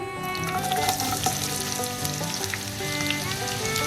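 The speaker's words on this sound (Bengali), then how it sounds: "এখন আমি পেঁয়াজটাকে একটু বেরেস্তা কালার করে ভেজে নিব।" Chopped onions, about one and a half cups, frying in oil in a pan for a traditional Bengali chicken pulao, a loud steady sizzle and crackle throughout, close and alone.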